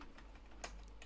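A few faint, scattered keystrokes on a computer keyboard, quiet and close, with brief pauses between taps in an otherwise still room.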